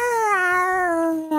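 A person's voice mimics a realistic cat meow, one long drawn-out wavering cry heard up close and alone, slowly falling in pitch before cutting off abruptly.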